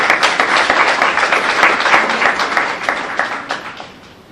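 Applause for a group of students who made their own pieces for a competition, many hands clapping in a dense steady wash that thins and fades toward the end.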